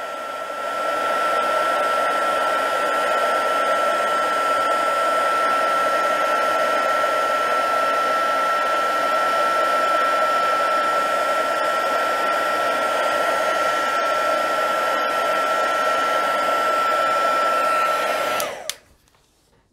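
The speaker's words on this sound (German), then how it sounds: "Mit dem föhnen wir jetzt ganz schnell eben das Pulver trocken." An embossing heat gun drying embossing powder runs as a loud, steady whining blow with a high tone held throughout, then cuts off near the end.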